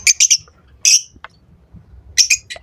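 Fischer's lovebird chicks in an aviary give short, high chirping calls in quick clusters, a few rapid peeps, a pause, then another burst, fairly close and clear over a faint low background.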